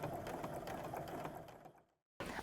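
Sewing machine running slowly while top-stitching along the edge of a fabric fashion backpack, an even rapid needle patter for about a second and a half that fades out, pauses briefly, then resumes.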